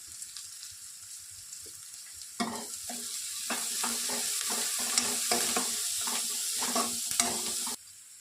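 Onions frying in a pan with salt and turmeric, a steady close sizzle that starts abruptly and carries on under repeated scraping stirs before cutting off near the end.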